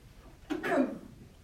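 A single short, sharp sneeze in a classroom during a geometry lesson, a quick burst of breath followed by a fading voiced tail, heard near and alone.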